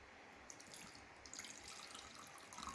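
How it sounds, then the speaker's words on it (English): Water pours steadily into a cup of instant kava mix, a continuous faint splashing trickle that grows slightly brighter toward the end, heard alone without talk. "And then we add water."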